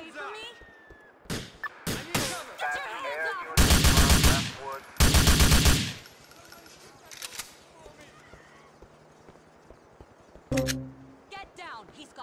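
Grand Theft Auto IV gunfire rings out as sharp single shots followed by two long, loud bursts of rapid automatic fire and a last short volley, with shouting voices around the shooting.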